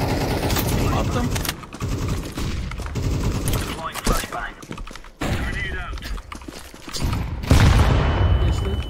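Grenade blasts and dense gunfire crackle through a tactical shooter video game, loud bursts and thuds recurring throughout while people talk over the action.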